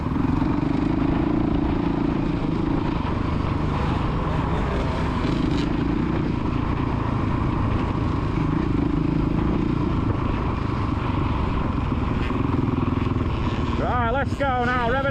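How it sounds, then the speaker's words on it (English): A kid's motocross bike on the Astley MX main track holds a loud, steady engine drone throughout, with a voice calling encouragement on top and a brief burst of other sound near the end. "Right, let's go now, rev it up. Come on, rev it up."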